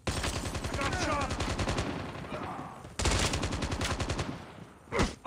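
Rapid automatic gunfire from Call of Duty: Mobile rattles in dense, loud bursts, pausing briefly before another long volley and a final sharp shot.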